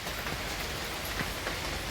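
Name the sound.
rain falling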